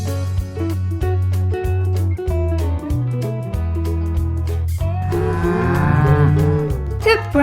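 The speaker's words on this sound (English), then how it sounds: "The Brahman Cow." A Brahman cow, a farm breed, lows with drawn-out moos that blend into a steady tonal musical backing throughout.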